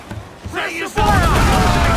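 Ship cannons fire a broadside in the naval combat of Assassin's Creed IV: Black Flag, a loud sustained rumble of overlapping blasts that swells midway, with a shouted voice just before it.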